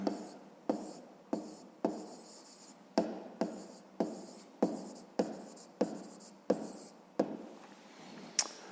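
Pen or chalk writing out a grade-5 math word-problem solution, a quiet series of short scratchy strokes in an uneven rhythm, each starting with a light tap, with no talking.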